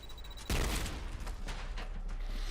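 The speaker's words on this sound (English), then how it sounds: "I like how the grenade looks like it sucks everything in before it explodes" A grenade going off in a first-person shooter video game, a sudden loud blast that rolls into a sustained rumbling, crackling roar lasting a couple of seconds.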